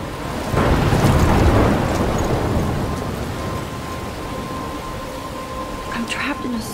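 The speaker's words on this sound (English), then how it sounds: "I'm trapped in a storm?" A thunderstorm in the video game Life Is Strange: a heavy rumble of thunder swells and slowly fades over steady pouring rain, loud and close, with a few faint higher sounds near the end.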